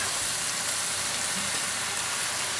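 Mushrooms sautéing in a hot pan, a steady, even sizzle of frying with a constant hiss and no talking.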